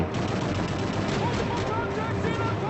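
Rapid gunfire from Call of Duty Modern Warfare 3 running on the Dolphin emulator on a Snapdragon 865 device, a dense steady burst of shots and battle noise that carries through the whole stretch.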